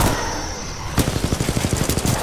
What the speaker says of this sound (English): Why are there so many shotguns?